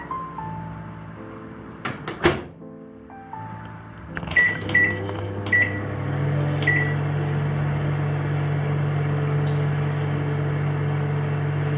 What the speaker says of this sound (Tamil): இப்போ இதை ஓவனில் வச்சிடலாம்.